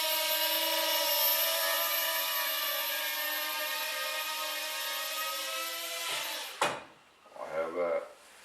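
A small repaired Hubsan 108 quadcopter drone hovers close by with a steady high-pitched buzzing whine for several seconds, then cuts out abruptly, followed by a few brief handling noises.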